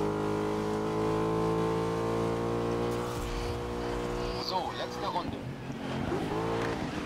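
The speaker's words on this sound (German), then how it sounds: "jetzt geht es auch schon auf die schnelle Runde hier auf dem Brands Head Circuit mit dem Ford Mustang GT4" A Ford Mustang GT4 racing at Brands Hatch in GRID (2019): a steady high engine drone that holds, then breaks into revving, shifting pitch with tire squeal, while someone talks over it.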